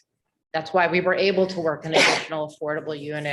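A single loud, breathy sneeze bursts out in the middle of a man's speech at a village board of trustees meeting, as he keeps talking on either side of it.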